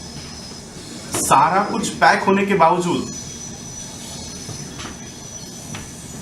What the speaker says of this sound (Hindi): ये अभी भी एक रेल जा रही है।